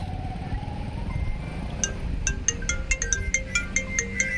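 A mobile phone ringtone starts partway through and repeats as a steady run of bright electronic chirps, fairly close, over a low rumble of outdoor background noise.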